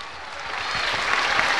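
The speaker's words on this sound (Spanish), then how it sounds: "Más fuerte los aplausos para nuestro alcalde, más fuerte, que se escuche." Crowd at a school inauguration in Tarija applauding a mayor, a dense sustained clapping that swells slightly louder, close and without speech.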